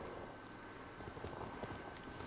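A horse's hooves clip-clop steadily as the animal approaches in the Ghost of Tsushima video game, a faint rhythmic trot set over a continuous wash of background ambience.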